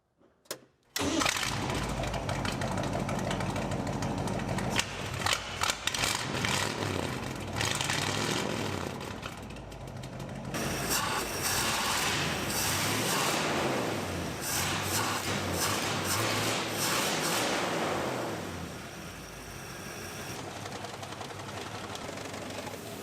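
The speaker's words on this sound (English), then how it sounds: "let's test the clutch while the rear end's up in the air" Engine of an 87-year-old vintage hot rod starts and runs loud and steady during a clutch test with the rear end raised, its revving rising and falling over a continuous close mechanical drone.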